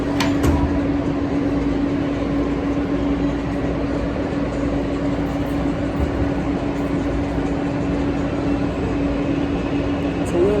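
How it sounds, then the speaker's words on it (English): Steady rumble of a J subway train in motion, a constant low hum and rattle filling the whole stretch, with no clear voices standing out. "We on a J train right now."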